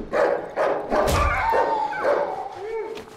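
Dogs barking and attacking in the video game Darkwood, a run of loud, close barks and snarls with a whimper, while someone talks over them.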